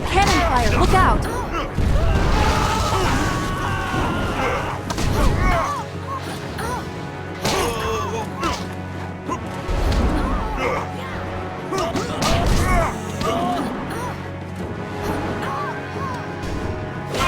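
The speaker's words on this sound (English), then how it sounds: "Cannon fire, look out!" Heavy booming cannon blasts go off repeatedly in the video game Jade Empire, a few seconds apart, loud and close, over a busy game soundscape.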